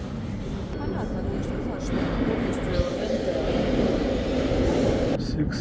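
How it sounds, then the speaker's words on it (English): Kyiv metro train running through an underground station, a steady loud rumble of wheels and carriage noise with a faint squeal, continuous throughout. "Train."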